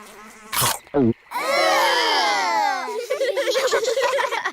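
Cartoon flies buzz in a children's animated show about frogs eating flies, a loud wavering whine that fills the middle of the clip after brief character voices, followed by more chatter.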